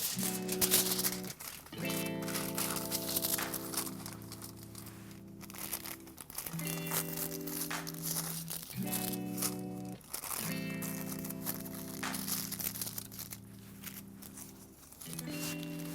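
Aluminium hair foil crinkles and rustles up close as it is folded during a brunette bronding colour application, a steady papery crackle running through under a continuous background of music.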